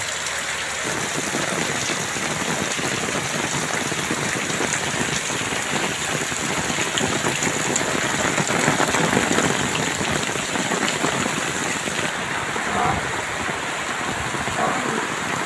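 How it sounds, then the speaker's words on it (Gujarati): Heavy monsoon rain pours down steadily in a dense, unbroken hiss over farmland in Udra, Patan district, Gujarat, loud and constant throughout with no voices. "આજે વરસાદ મન મૂકીને વરસી રહ્યો છે"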